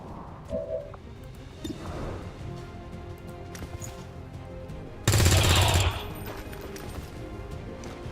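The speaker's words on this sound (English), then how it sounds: "can I have Star get a flanking shot on anybody?" Automatic gunfire in XCOM 2: War of the Chosen, a dense burst of shots lasting about a second amid quieter game sounds and effects, with louder thumps early on.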